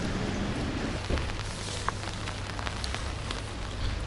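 Steady rain falls across a city street in Morocco, a dense even hiss with scattered drip ticks and a low continuous hum beneath, no voices.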